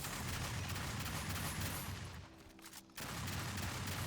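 Overclocked M51 Breaching Scattergun in Aliens: Fireteam Elite unloading in a dense, rapid stream of heavy blasts that roar almost without pause, dipping briefly near the end before the barrage resumes at full loudness.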